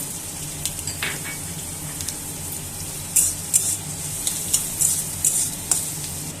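Chopped onions sizzle steadily in a pan with a bright, continuous hiss, joined by stirring scrapes and a few sharper clatters as carrot goes in, partway through. The sounds are close and there is no talk.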